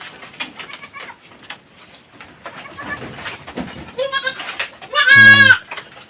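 A newborn Boer goat kid bleats, with a loud, close cry near the end preceded by softer bleats and rustling, and a few faint bird-like sounds in the background.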